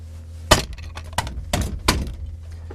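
Plastic cover over an emergency hammer recess beside a sliding door on a Class 180 Adelante train is struck and broken: a sharp crack followed by three further knocks and clattering breaks, close and fairly quiet.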